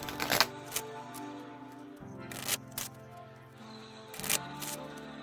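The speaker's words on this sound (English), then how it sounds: "let's just give the deck a few shuffles and get the deck ready here" A Queen of the Moon Oracle card deck being shuffled by hand in a few quick riffling bursts with short pauses between them, fairly quiet and close up.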